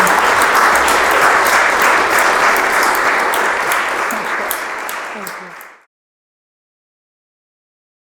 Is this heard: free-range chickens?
no